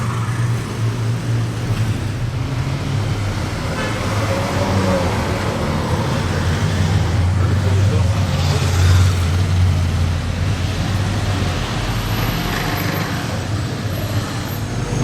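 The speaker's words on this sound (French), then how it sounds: "Pendant ce temps-là, dans les bouchons à Monaco, Porsche Turbo, F12 qui arrive là à gauche, Rolls de l'autre côté" Steady roadway rumble from cars idling and creeping in a Monaco traffic jam, including a Porsche Turbo, Ferrari F12, Rolls-Royce and an older Maserati Quattroporte, a continuous low engine drone at close range with no voices.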